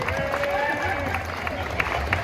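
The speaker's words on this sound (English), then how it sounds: "Round of applause for you guys, come on." Steady convention crowd noise at a live stage event with a rumble of clapping and cheering, voices mixed in throughout, fairly loud and continuous.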